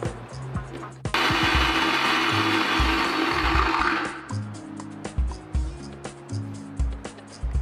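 A mixer grinder whirs loudly for about three seconds as it blends mint, mango, tamarind and chilli into chutney, then stops, followed by clunking and handling sounds up close.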